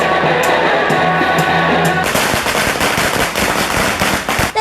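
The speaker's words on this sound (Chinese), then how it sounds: "原来这是炮竹音效，跟真实的鞭炮声几乎一模一样。" Recorded firecracker bursts blast from a large loudspeaker at an eco-friendly firecracker setup, rapid crackling pops loud and close, starting after a short lead-in and continuing densely to the end.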